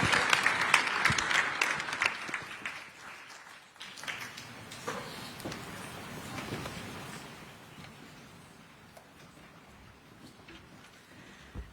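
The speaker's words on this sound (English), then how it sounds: "let's give a round of applause for the best panel today" Audience applause for a panel at an energy security summit, a burst of clapping that starts strong and tapers off gradually over about twelve seconds without any talk.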